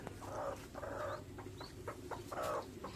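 A hen that hatched duck eggs clucks repeatedly beside her growing ducklings, a steady run of short, close, moderately loud clucks in bursts, with a few softer calls in the gaps.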